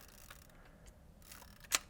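A Hasselblad 500C/M medium-format camera fires its shutter with a single sharp mechanical clack near the end, preceded by faint small clicks in a quiet room.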